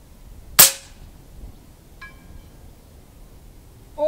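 An FX Panthera .25 calibre air rifle fires one sharp, close crack, followed about a second and a half later by a faint, short ringing ping of the pellet striking a distant metal target, with another sharp hit at the end.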